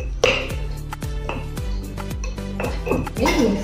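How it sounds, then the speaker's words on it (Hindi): A rolling pin stirs red chilli pickle inside a metal pot, giving repeated close clinks and knocks against the pot at an uneven rhythm, with a voice talking underneath. "एक बेलन से मिक्स कर लीजिए।"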